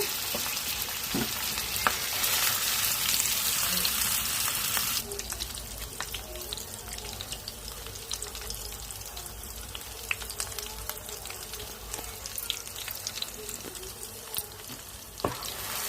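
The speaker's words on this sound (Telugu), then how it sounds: "బాగా వేగిపోవాలండి ముద్ద" An onion, tomato and roasted spice paste fries in a pan for a fish curry, a soft steady sizzle with scattered pops and light stirring, louder at first then settling to a quieter crackle.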